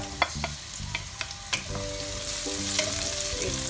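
Chopped white onion fries in a pan for a pork mechado stew, a continuous crackling sizzle broken by a few stirring scrapes and clinks, close and fairly quiet.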